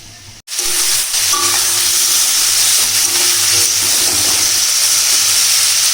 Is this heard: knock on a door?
no